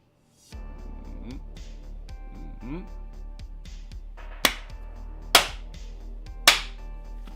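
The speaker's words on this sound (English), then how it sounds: "I should do a clap for it though." Three sharp, loud hand claps ring out one after another near the end of a leathercraft livestream, each standing clearly above a steady background hum and faint earlier clicks.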